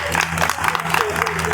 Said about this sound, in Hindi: और जोरदार तालियां उसके लिए